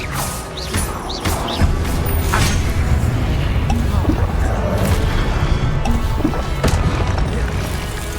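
Blasting spell explosions from Hogwarts Legacy: repeated loud booming crashes and whooshing impacts over dense, constant battle noise, several sharp bursts spread across the stretch.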